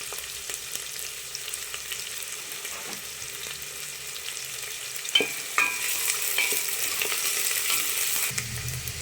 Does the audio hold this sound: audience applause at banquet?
no